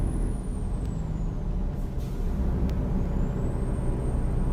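Air brake hiss from a dump truck in American Truck Simulator, a steady loud road rumble throughout with faint brief high whistles and short bursts of release noise, no talk.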